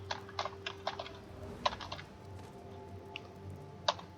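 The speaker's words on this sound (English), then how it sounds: "I'm gonna type it here" Typing on a computer keyboard, a quick run of close, crisp key clicks with short pauses between bursts, fairly quiet and with no voice over it.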